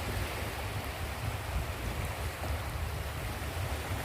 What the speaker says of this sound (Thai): มาข้ามน้ำทะเลพี่น้องเอ้ยโห